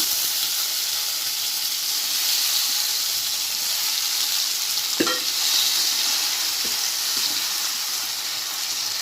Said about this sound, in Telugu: నెక్స్ట్ ఇదే ప్యాన్లో మనము టమాటాలు వేస్తున్నాము